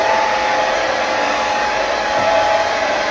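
A hair dryer blows heat onto freshly bleached hair, a loud, steady, unbroken whoosh of motor and airflow held close throughout, with no voices.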